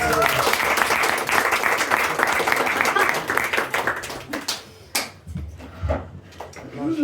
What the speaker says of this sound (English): Everybody give Sarah a round of applause.